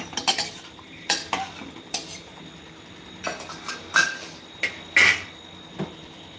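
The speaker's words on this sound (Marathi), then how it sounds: "बघा आता मस्त मिक्स करून घेऊया आपण" A spoon scrapes and clinks against a pan while a vegetable curry is mixed, with sharp metallic knocks at irregular intervals over a quiet background and no talk.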